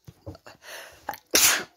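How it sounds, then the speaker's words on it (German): A single sharp sneeze, loud and close, closes a short stretch of soft, indistinct sounds that seem to come from a cartoon episode. "du bringst mich schon zum Niesen"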